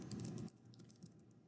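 Quick bursts of typing on a computer keyboard, a dense flurry of key clicks followed by a few sparser taps, close and fairly quiet.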